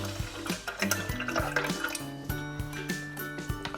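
Coffee, about 150 to 200 ml, is poured into a mug for keto bulletproof coffee, giving a continuous splashing liquid stream with drips over a light musical backdrop.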